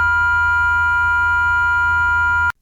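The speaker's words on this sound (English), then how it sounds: "This project uses the tone function and a simple trick to generate multiple tones at once." An Arduino Nano tone generator sustains several simultaneous pure electronic tones, a steady, loud, unchanging chord of beeps over a low hum that cuts off abruptly at the end.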